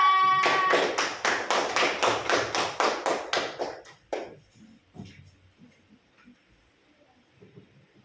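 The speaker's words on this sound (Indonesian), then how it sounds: "silakan kembali tepuk tangan untuk kelompok 2" A classroom of pupils clapping for a student group: a burst of loud, rapid claps in rough unison for about four seconds, then quickly thinning to a few scattered, fading claps and quiet room noise.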